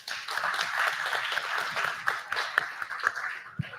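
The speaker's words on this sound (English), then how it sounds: "maybe you can join me in a round of applause for all of them" Applause from an audience at a climate summit during COP28, a steady dense patter of many hands that swells briefly and then thins, heard without speech.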